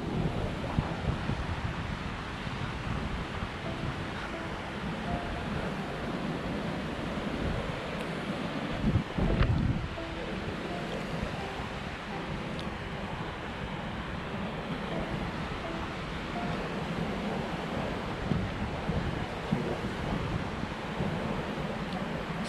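Big ocean waves roll onto the beach at Arambol, Goa, producing a continuous wash of surf with gusting wind noise across the microphone and one louder thump midway.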